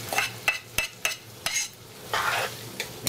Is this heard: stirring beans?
yes